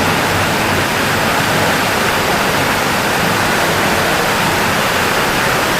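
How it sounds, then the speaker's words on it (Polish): Rushing water in a drainage tunnel under the mountains, a loud, steady, broadband roar that fills the space without a break. "Szum woda jest dosyć mocny."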